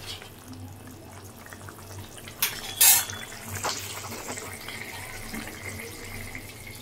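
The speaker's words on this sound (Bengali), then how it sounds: "আর একজন শুধু জল ভরতে আছে আর খেলতে আছে, জল নিয়ে খেলা করো না।" Tap water runs steadily into a sink in a home kitchen while a child fills and plays with water, a soft continuous hiss with a brief louder splash midway.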